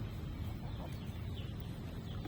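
Laying hens cluck faintly and indistinctly beneath a steady, low rumble of background noise, with no clear individual calls standing out.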